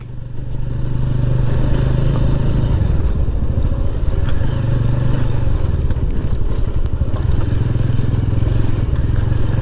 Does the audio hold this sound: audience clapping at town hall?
no